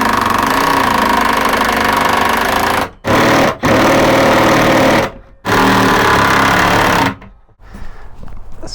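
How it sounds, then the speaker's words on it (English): An impact driver tightens bolts to mount a bed frame inside an E350 box truck camper conversion, firing in four loud, close, rattling bursts separated by short silences, with quiet handling noise at the end. "then using my impact on the inside"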